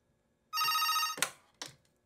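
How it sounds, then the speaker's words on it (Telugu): A phone rings once near the microphone, a sustained electronic ring followed by two short clicks or knocks, in an otherwise quiet room. "అప్పుడే ఫోన్ కూడా వచ్చేసింది."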